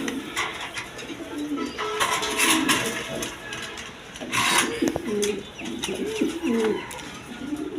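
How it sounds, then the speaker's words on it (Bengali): A pair of black fancy pigeons cooing close by, repeated soft rolling coos in short phrases over a faint background hum. "এখানে এক পেয়ার শৌখিন কবুতর আছে দেখেন ব্ল্যাক কালারের মধ্যে"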